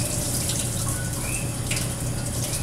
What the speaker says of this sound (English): I'm going to rinse it and fill my pot with water.